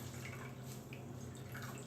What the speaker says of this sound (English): Let me remove some of this water.